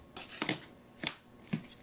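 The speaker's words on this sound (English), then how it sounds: "Oh, scissors, don't fail me now." Scissors snip through the cardboard packaging of a Tritton Pro+ headset box in three quick, close, crisp cuts with short pauses between them.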